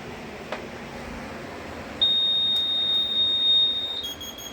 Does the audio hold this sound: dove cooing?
no